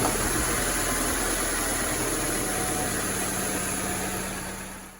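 A car engine idles during a check of its air-conditioning system, a steady broadband hum and whir held close and fairly loud, easing slightly toward the end, with no talking.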